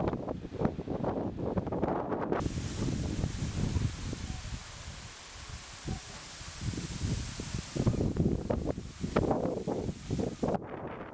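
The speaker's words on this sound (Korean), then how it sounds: "피연군에서도 강한 바람이 불었는데 한때 초당 16m의 바람 세기가 관측됐습니다." Strong wind gusting at up to 16 metres per second, roaring and buffeting the microphone in a loud, continuous rush that rises and falls over several seconds, with rustling underneath and no voices.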